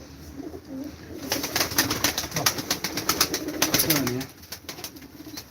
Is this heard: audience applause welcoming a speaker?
no